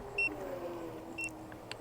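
Faint electronic beeps from a Fifth Wheel V40 Pro electric scooter's turn signals repeat a few times at a steady pace over a low vehicle hum.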